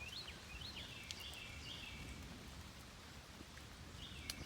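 Steady, faint rain falls on a field beside grapevines, a soft continuous hiss with a few bird chirps above it and no voices.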